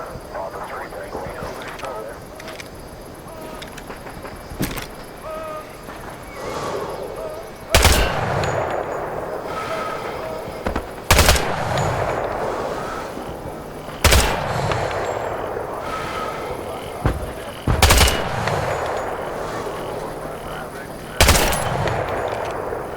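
Rifle fire at targets in the Vietnam War shooter Hell Let Loose: Vietnam, sharp loud single shots spaced a few seconds apart over a steady rumble of aircraft and distant battle.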